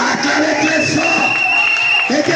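A church congregation raises a loud, continuous crowd cheer and shouts of acclamation that fill the room, steady and close throughout.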